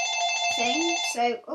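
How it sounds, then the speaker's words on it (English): A telephone rings steadily with a bright, continuous electronic trill close by, while someone talks briefly over it near the end. "that's the phone anyway"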